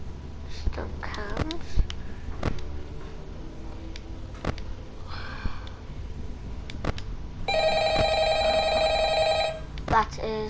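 A telephone rings in the Ultimate Custom Night video game, one long electronic ringing burst toward the end over game sounds, clicks and quiet background voice.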